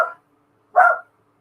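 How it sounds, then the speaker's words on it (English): A dog indoors gives two short, separate barks, the second louder and slightly longer, with silence between them. "now the dog's going crazy and I don't know why"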